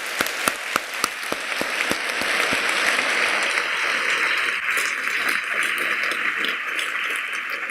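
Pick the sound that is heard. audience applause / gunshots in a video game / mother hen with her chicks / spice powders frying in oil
audience applause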